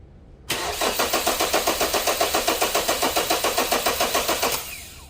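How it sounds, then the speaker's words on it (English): Car engine cranking over steadily on the starter during a starting system voltage drop test, a loud rhythmic churning of even pulses running for about four seconds before cutting off, heard alone. "we're going to crank our engine"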